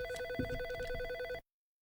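A telephone rings with an electronic bell tone, a steady repeating trill filling the whole clip, loud and close, then cutting off abruptly.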